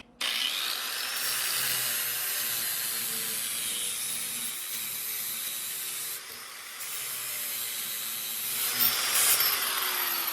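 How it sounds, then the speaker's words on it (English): Grinding on a rear bumper mount replacement panel of a 1972 VW Super Beetle, a steady abrasive rasp running nearly continuously with a brief dip midway and a louder surge near the end. "Be careful not to grind too much off now."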